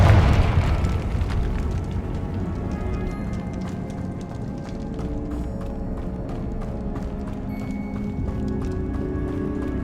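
Confringo fire spell blasting in Hogwarts Legacy, a magic explosion game effect: one heavy boom at the start, then a long rumbling roar and crackling debris that trails off slowly without fading out, with no talk.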